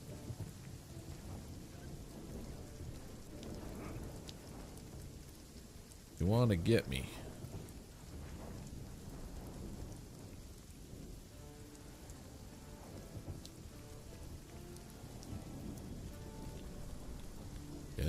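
Storm ambience in the Runescape: Dragonwilds video game, with steady rain on surfaces throughout and a brief louder thunder crack midway, while a person talks over it.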